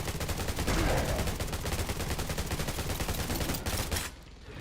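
Rapid automatic gunfire in the zombie survival game Undawn, shots fired at a boss in a dense, loud continuous burst for about four seconds before cutting off abruptly, with no talk over it.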